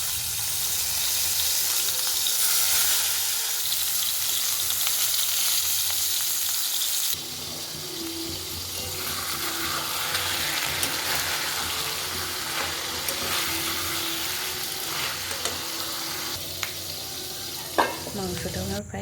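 Meat sautés in a pan with a loud, continuous sizzle that drops in intensity partway through. Occasional clinks from stirring and a brief clatter near the end sound over it, with no talking.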